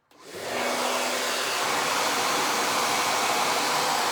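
A hair dryer switches on and runs at a steady, loud whooshing roar close by, drying a very light wood surface, continuous with no pauses or talk.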